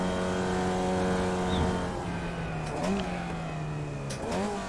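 Race car engine in the iRacing sim racing game, a steady loud harmonic drone that drops in pitch around downshifts, with brief dips and rises near the end as the car slows for a corner.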